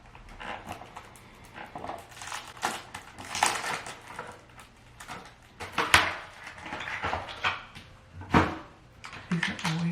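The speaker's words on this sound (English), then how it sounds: "they make the freaking packaging so loud and obnoxious" Plastic packaging of a pregnancy test being torn and crinkled open nearby, a series of loud irregular crackles and rustles with sharper bursts at several points.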